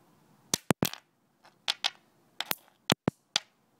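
A series of sharp, sudden cracks and pops as nitrogen triiodide detonates when struck, about ten in irregular bursts, each loud and snappy against near silence.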